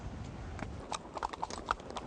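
Horses and mules walking on a trail up a hill in California, hooves clip-clopping in an irregular run of hollow knocks, moderately close, over a soft outdoor background.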